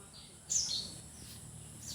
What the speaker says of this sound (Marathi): सुंदर असा पक्ष्यांचा आवाज